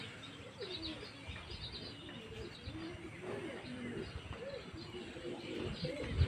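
Pigeons, a loft of adult birds with young, coo softly in low, repeated phrases alongside faint chirps and occasional wing flutters, fairly quiet and steady under light ambient noise.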